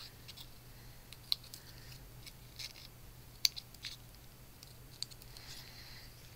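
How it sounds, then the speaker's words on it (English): Quiet, sparse snips of small scissors trimming stray scraps from a cut paper card piece, a few crisp clicks spread over several seconds against a faint steady hum; no talk. "You can see these little scragglers, and I'm just going to cut them off"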